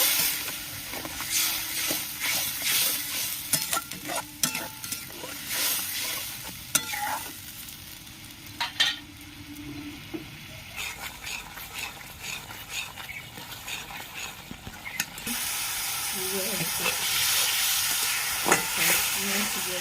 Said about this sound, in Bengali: বাটিটা ধুয়ে আমি জলটা দিয়ে দিচ্ছি ভালো করে কষিয়ে নেব